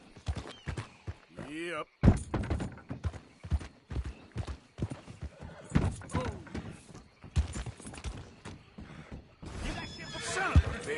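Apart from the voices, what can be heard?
horse galloping and whinnying in the video game Red Dead Redemption 2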